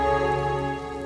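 Rain falls steadily on a surface, a continuous even patter close by with no talk over it.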